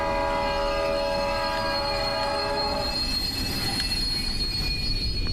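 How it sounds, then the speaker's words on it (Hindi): A train in the Japanese horror game Axis brakes to a stop, its wheels squealing in sustained high metallic tones over a rumbling rail roar that fades partway through. "ट्रेन अपने आप रुक गई क्या?"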